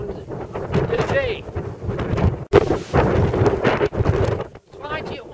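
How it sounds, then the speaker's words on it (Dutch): Strong wind at a clifftop viewpoint on the coast of Gran Canaria buffets the microphone in loud, rumbling gusts, with a person talking over the roar. "Het waait hier ongelooflijk hard."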